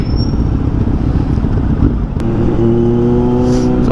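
Motorcycles and motor tricycles roar past nearby on a busy road, engines revving with a rising buzzy tone, loud and close amid general traffic noise.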